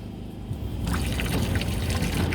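Water starts running in an outdoor commercial sink fed only by hot water, a steady pouring splash that swells to full strength after a quiet start and stays loud to the end.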